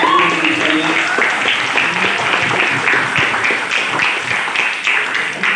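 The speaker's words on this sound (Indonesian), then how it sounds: "Tepuk tangan." An audience claps after a speech at a hall event, loud sustained applause holding steady throughout without a break.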